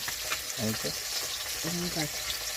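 Mrigal fish sizzling in a frying pan, a continuous hissing crackle across the whole stretch, with soft voiced sounds surfacing twice beneath the frying.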